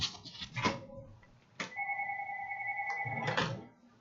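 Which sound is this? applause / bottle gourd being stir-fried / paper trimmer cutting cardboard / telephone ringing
telephone ringing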